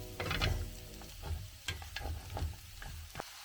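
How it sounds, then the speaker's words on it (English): Cumin, garam masala and chili are stirred into pork frying in a pan. Soft sizzling runs beneath scraping strokes of a utensil at irregular intervals, close and fairly quiet, with no talking. "Quickly stir in the spices"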